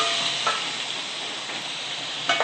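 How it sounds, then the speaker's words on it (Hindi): Steady hissing sizzle of soaked chana dal frying in a hot pan with garlic and chilies, with a couple of soft scraping stirs. "अब इसमें भीगे हुए चने दाल डाल देंगे"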